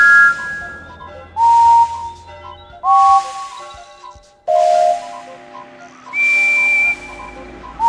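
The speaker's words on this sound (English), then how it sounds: "One of these whistles sounds like Henry's." Several steam locomotive whistles from Thomas & Friends, including Henry's, blow one after another in loud sustained toots with hissy steam bursts, each at a different pitch, separated by short pauses.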